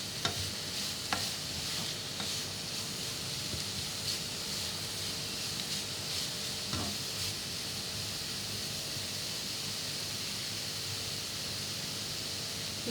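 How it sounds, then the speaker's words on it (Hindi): Shredded cabbage fries lightly in a pan, giving a steady, soft hiss that stays even throughout, with a few faint clicks from stirring. "बहुत ज़्यादा नहीं पकाएंगे, हल्का सा इसको फ्राई करेंगे, हल्का हल्का सा"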